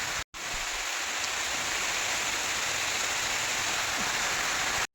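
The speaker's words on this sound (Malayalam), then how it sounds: "അതെ മഴ പെയ്യുന്നുണ്ട്, നമുക്ക് സാരമില്ല." Steady rain falling outdoors over a home garden with leafy greens, a dense continuous hiss of drops alone with no voices, briefly cut out near the start and end.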